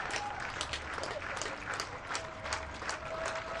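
Stadium crowd at a second-division soccer match in Colorado Springs, fans performing the Viking clap: broad, rolling crowd noise with repeated clap bursts spaced evenly through the din, heard from a distance.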